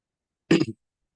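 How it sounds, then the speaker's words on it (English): One short, muffled cough breaks a silence, brief and close, with a throaty grunt-like quality. "Well timed cough."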